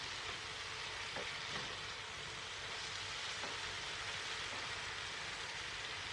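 Eggplant masala curry sizzles steadily in a pan as it is gently turned over, a dense, continuous frying hiss that stays even throughout, close and loud, with no talking.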